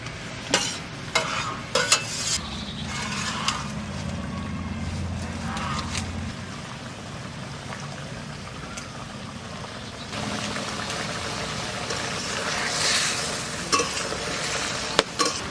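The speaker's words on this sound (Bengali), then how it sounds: "গ্রেভিটা হয়ে গেছে, এবার আমি এই বেগুনগুলো দিয়ে দেবো।" Brinjal pieces are added to a mustard gravy in a pan, giving a steady frying sizzle with stirring scrapes and clatters. The sizzle is interrupted by a few sharp knocks and later flares louder and brighter.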